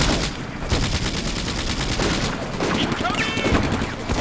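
Gunfire from an M19 .50-caliber machine gun rattles through a battle in the video game Combat Mission: Afrika Corps, loud and dense bursts layered with other weapon fire and battle noise.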